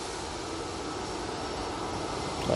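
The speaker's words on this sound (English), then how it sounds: "the EasyJet that we're going to jump onto in the next few seconds is off to Pisa" An EasyJet jet airliner bound for Pisa takes off at Manchester Airport, a moderate, steady engine roar that swells slightly at the very end, with no voices.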